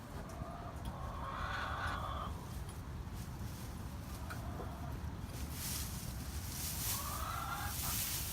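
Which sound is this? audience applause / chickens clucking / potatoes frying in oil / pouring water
chickens clucking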